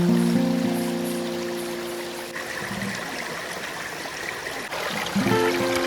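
A small stream at Mono Cliffs in Ontario, Canada flows in a steady close-up rush and trickle of water, with faint tonal hums fading in and out at the start and end, and no talking.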